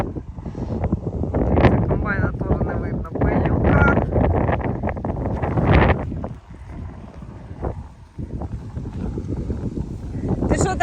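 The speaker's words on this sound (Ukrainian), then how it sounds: "А тебе не чути буде, тут вітер страшний." Strong gusts buffet the microphone in low rumbling bursts while people talk and call out nearby.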